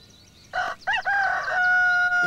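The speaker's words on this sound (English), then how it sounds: "for a cock." A rooster crows loudly and close up. The call comes in short broken bursts and then settles into a sustained, ringing final note.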